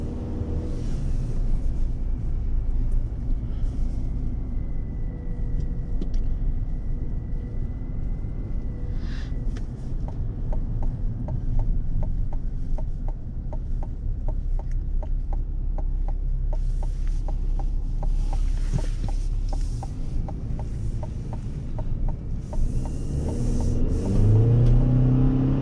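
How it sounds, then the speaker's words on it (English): A 2024 GMC Sierra Elevation pickup with a 2.7-liter turbo four-cylinder accelerating, a steady low engine rumble and road noise heard from inside the cab, rising slightly toward the end. "We'll also do some acceleration up here, see what kind of power it puts down."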